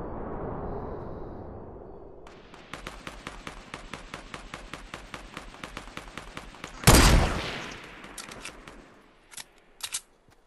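Shotgun gunfire in Fortnite: a rapid run of sharp, evenly spaced shots, then a loud blast with a trailing rumble, followed by a few scattered later shots.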